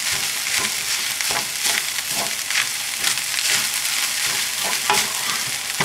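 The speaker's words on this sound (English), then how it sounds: "So now we're going to continue to stir fry the rice with the vegetables." Shrimp fried rice with hand-cut carrots and other vegetables hisses loudly and continuously in a hot pan, with frequent scraping stir strokes rising through the dense sizzle.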